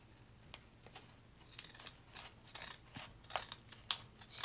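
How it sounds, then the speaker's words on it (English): Decorative scissors cut around a paper circle for junk journal flowers, giving a series of soft, irregular snipping crunches close by that grow louder toward the end, with no talking. "I'm going to cut these out with my decorative scissors"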